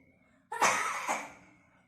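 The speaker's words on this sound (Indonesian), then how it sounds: "coba ibu batukan kembali secara kuat" A single forceful cough, as done to clear choking, bursts out abruptly and trails off with a breathy tail in an otherwise quiet room.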